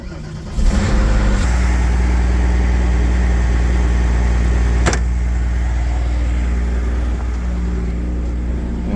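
A Porsche 993 engine fires up after an oil change and settles into a steady, close, loud idle, a continuous even hum with a faint click midway and no talking.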